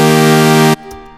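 A loud, sustained synthesizer chord rings for under a second, then cuts off abruptly, leaving faint residual noise.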